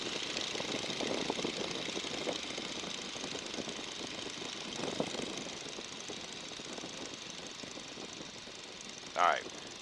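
A Stearman biplane's engine throttled back to about 1,300 RPM in flight, a steady loud droning rumble throughout with a faint voice over it and a brief sharp sound near the end.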